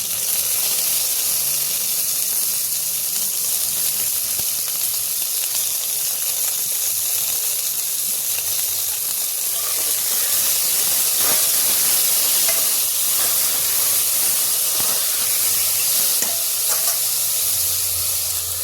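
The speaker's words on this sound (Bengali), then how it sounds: "আলুকে একটু ভেজে নেব। কেটে ধুয়ে রাখা বেগুন," Cut potatoes and eggplant fry in a pan with a loud, steady hiss and sizzle, scattered crackles and a few stirring scrapes running throughout.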